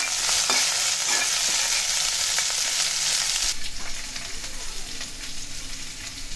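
Onions and aromatics sautéing in a pan for a Tamil mor kulambu, a steady close sizzle with bright frying crackle that softens partway through as stirring continues.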